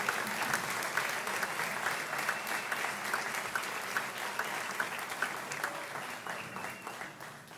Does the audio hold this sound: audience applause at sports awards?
yes